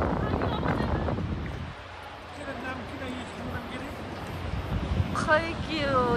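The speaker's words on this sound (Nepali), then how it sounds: "कस्तो हावा आउँदो रहेछ है अबा कस्तो हावा आएको" Gusty wind buffets the microphone on the Baglung Golden Bridge, also called the Gandaki Golden Bridge, a continuous rumbling roar that swells and eases while people talk throughout.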